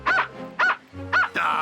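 A cartoon robot guard dog gives three evenly spaced, bright bow-wow barks, then makes a longer, harsher bark-like sound, close and loud.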